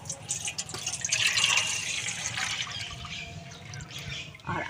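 Water pours into a wide basin in a home kitchen, a continuous splashing rush that runs alone and then briefly eases near the end.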